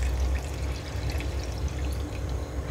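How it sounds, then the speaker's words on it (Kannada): Water saved from boiling tomatoes pours steadily into a pan of masala for matar paneer, a continuous close splashing wash with no talk. "ಆಗ ಟೊಮೆಟೊ ಬೇಯಿಸಿಟ್ಟ ನೀರು ಹಾಕ್ತಾ ಇದ್ದೇನೆ."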